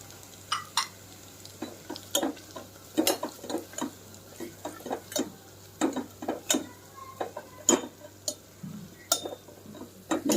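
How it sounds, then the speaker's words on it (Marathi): Chutney spice powder roasting with garlic and coconut in a pan, faint low sizzle under a string of crisp irregular taps and scrapes as a spatula stirs the dry mixture. "लसूण खोबरं थोडंसं भाजल्यानंतर मी यामध्ये चटणी टाकणार आहे. चटणी पण मी भाजून घेणार आहे."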